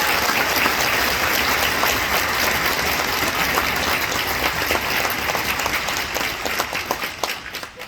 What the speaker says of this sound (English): if we could give them another round of applause, that would be awesome